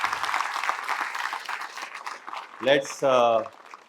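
A crowd at an event in Delhi claps in a dense, steady patter, with a voice calling out over it and a couple of loud tonal shouts or cheers near the end.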